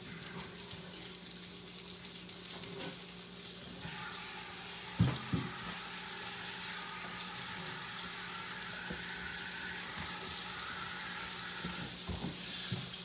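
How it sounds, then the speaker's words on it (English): Chicken livers sizzle steadily in a pan of hot oil, a soft constant crackle with a few clunks of utensils nearby. "here's those livers, just frying their little hearts out"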